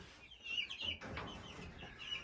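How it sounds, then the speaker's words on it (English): Chicks in a chicken coop, 24 of them huddled in groups, give soft, scattered clucks and chirps at close range, a busy murmur that rises and falls without a break. "the chicks that were in it, I have now moved into this side of the chicken coop"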